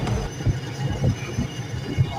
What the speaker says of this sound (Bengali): এখন আমরা ট্রেনের ভিতরে আছি,